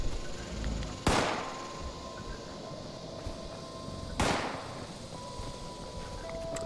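Gunfire from a monster in the video game Fallout 76: two sharp, distant-sounding shots spaced about three seconds apart, each with a short echoing tail over quiet ambient hum.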